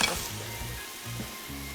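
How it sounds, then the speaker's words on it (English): Chicken pieces sizzle and crackle steadily in a hot pan, close and fairly quiet, with faint stirring sounds. "so that you are actually frying them and getting a lovely bit of colour to your chicken"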